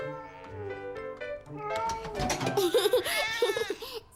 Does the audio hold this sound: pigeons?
no